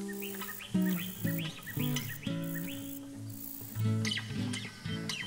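Birds sing from the treetops in a series of bright, rising chirps and warbling phrases over a steady low musical drone, with calls coming in irregular bursts and no talking.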